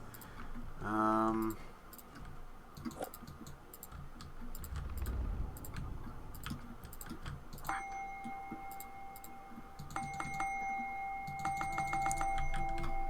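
A bell in the video game Ether One rings out as a sustained, steady tone that starts partway through and returns later, over scattered clicks and game ambience.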